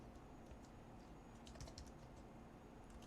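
Quiet keystrokes on a computer keyboard as a name is typed during a Linux Mint setup, a loose run of soft clicks with a busier burst midway over low steady room hum.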